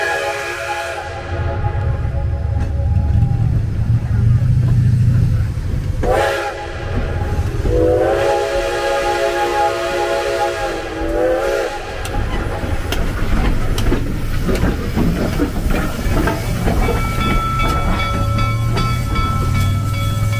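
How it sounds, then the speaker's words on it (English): Steam locomotive 2102 gives several loud whistle blasts over the rumble and clank of its running gear, close by and continuous, with the whistle tones sounding at intervals across the stretch. "catch the three whistles indicating she's backing up"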